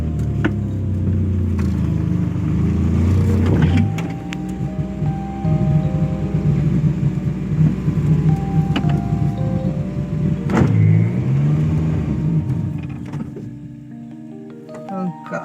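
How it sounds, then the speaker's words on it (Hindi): A Maruti 800 car engine runs while the car is turned around near a house, a steady low engine drone with a few sharp clunks, the sound thinning and fading toward the end. "तो यहाँ पर हम इसको गाड़ी को घुमाएंगे।"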